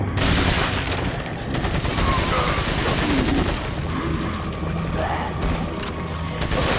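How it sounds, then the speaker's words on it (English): Sustained machine gun fire in Resident Evil 4, loud dense bursts with booms mixed in, continuous for several seconds. "Machine gun."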